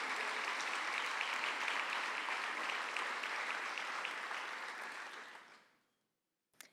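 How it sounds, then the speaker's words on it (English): Audience at a rural-regeneration summit opening ceremony applauds sponsors with steady, full clapping that holds evenly, then fades out quickly into silence near the end, a brief knock following. "So we can give track level sponsors a round of applause."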